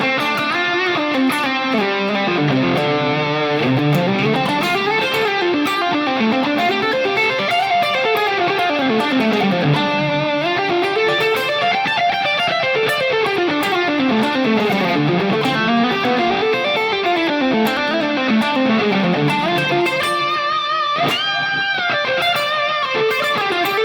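Electric guitar through a Line 6 Helix tube driver model based on the Chandler tube drive, a sustained overdriven lead melody with smooth gliding bends and runs. It plays continuously and loud for about twenty-four seconds with no talking.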